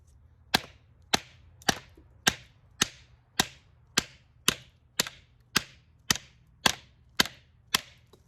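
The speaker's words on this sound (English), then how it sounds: "You can hear that whack. Dry, petrified wood." A dozen sharp, loud whacks of a knife blade striking hard, dry petrified wood, evenly spaced about every half second, with nothing else in between.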